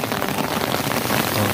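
Dense rain drums on an umbrella, a steady close pattering that fills the short stretch without pause.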